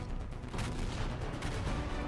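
A ghost cannon fires in DOOM, giving off a dense, rumbling blast with crackling bursts. It is fairly quiet and sustained, with no pauses.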